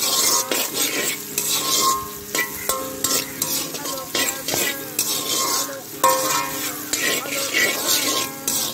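Unripe papaya pieces sizzle and fry in a pan while being stirred, with steady sizzling broken by repeated scraping and clinking of a utensil against the pan, close and clear.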